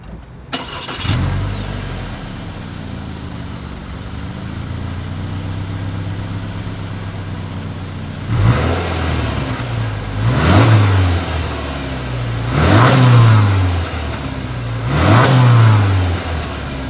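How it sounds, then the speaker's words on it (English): A 2020 Subaru Forester SUV engine starts, settles into a low steady idle, then revs sharply four times in a row with a deep exhaust rumble, close and loud. "As always, here is that exhaust clip."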